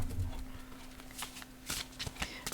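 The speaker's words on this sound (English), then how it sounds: "let's give these cards a really good shuffle" A deck of cards being shuffled during a live psychic reading, several papery riffles and flutters close by, fairly soft, with no voice over them.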